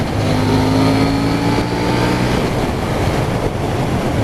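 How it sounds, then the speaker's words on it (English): A KTM Duke 790 motorcycle engine pulls hard under acceleration, a loud, continuous droning roar with steady harmonic tones holding throughout. "You really feel that engine pull when you want it to pull."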